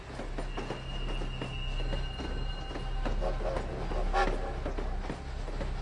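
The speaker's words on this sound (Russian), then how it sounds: "по железным дорогам Германии двигался к Балтийскому побережью необычный вагон." A railway wagon rolls along German tracks with steady rumbling, rhythmic clicking of wheels and some faint squeal, moderately loud and continuous throughout.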